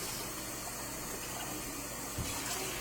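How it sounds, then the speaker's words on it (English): Tap water pours into a Tupperware stack cooker over dry rotini noodles, a faint, steady splashing gush with a soft low bump near the end and no talking. "literally pour the water over it."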